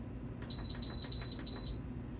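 A Nesco electric pressure canner, set for pressure canning a white bean ragout, gives a series of four short, high electronic beeps in even succession, clear and close over a faint background hum.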